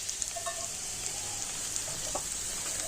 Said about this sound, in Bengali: পেঁয়াজটা কিন্তু লাল করে ভেজে নিয়েছি